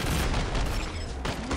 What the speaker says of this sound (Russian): О, ништяк выстрел.